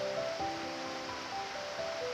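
White Oak Creek flowing through a tunnel beneath old railroad beds, a faint, steady rushing wash of water with no voices.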